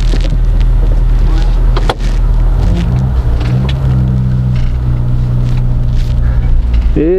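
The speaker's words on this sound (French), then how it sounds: "Et vous allez entendre le moteur." Car engine running steadily while driving, a sporty-sounding motor with a continuous low rumble and hum throughout, loud and close, with a brief pitch shift near the end.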